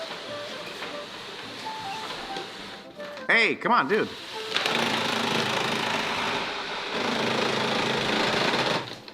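A mechanical whirring and grinding of a printer running while printing on lavash flatbread, with someone briefly speaking over it midway before the machine noise resumes louder.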